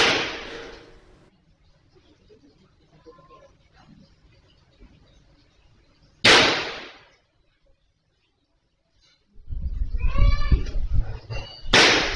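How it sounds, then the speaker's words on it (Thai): Sharp, loud gunshots crack out several seconds apart, with quieter rustling and faint noise between them. "ภาพที่บันทึกทั้งเสียงปืน"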